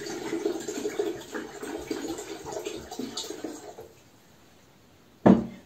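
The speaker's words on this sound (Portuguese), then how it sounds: "Coloca 1 litro de água para ferver no seu fogão ou na sua chaleira elétrica." Water poured into a kettle or pot to boil on a stove: a steady, broadband rush of pouring for about four seconds, fading to near quiet, then a sharp single clink or knock near the end.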